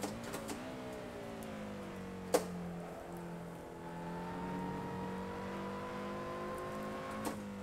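A race car engine in the racing video game Assetto Corsa, holding a steady droning pitch that dips and climbs slowly through gear changes, with a few sharp clicks, alone and moderately loud.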